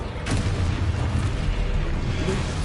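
A Confringo blasting spell bursts in the video game Hogwarts Legacy: a single loud, booming explosion that rumbles and fades over a few seconds.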